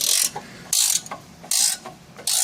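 A Gear Wrench ratcheting wrench turning a bolt on a rusty part gives loud, close bursts of rapid clicking, four quick strokes with short pauses between.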